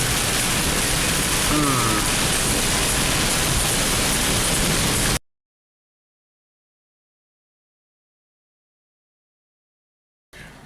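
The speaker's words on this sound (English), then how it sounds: "we're approaching the Gulf beaches, but it is a monsoon out there." Heavy monsoon downpour near the Gulf beaches in Cape Coral, Florida, a loud dense hiss of rain for about five seconds before cutting to silence, then briefly returning at the end.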